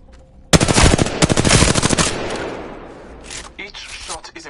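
Rapid automatic gunfire from the Apex Legends video game tutorial, a loud burst of closely spaced shots that tails off into scattered pops and echoes.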